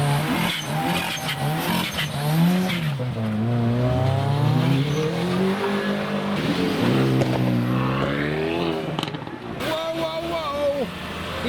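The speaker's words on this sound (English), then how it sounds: "Another car with a snorkel to deal with the moisture." At a rainy Japanese car meet, a car fitted with a snorkel drives by close, its engine revving up and down in rising and falling pitch, with a voice talking over it.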